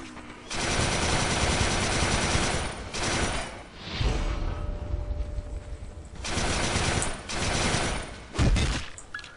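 Exploding rounds fired in Resistance 3, heavy automatic bursts of blasts that come in several sustained loud stretches with brief pauses between them, up close and without speech.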